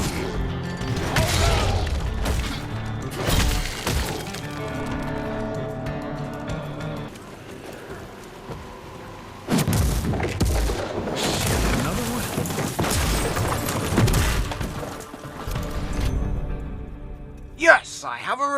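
Revolver gunfire in the Evil West video game, loud sharp shots among booms and thuds in a hectic fight, with game music and voices running throughout and a brief lull midway.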